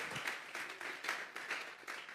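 A church congregation at a Sunday service applauding together, dense rhythmic clapping that swells in steady waves throughout, moderately loud and a little distant.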